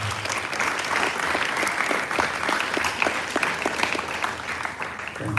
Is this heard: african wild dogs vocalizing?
no